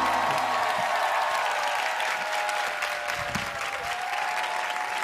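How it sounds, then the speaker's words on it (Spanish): A talent-show audition audience gives an ovation: sustained, fairly even applause from a large crowd, moderately loud, with slight cheering mixed in and no talk over it. "con un aplauso él sale un poquito más contento, si puede ser, una ovación"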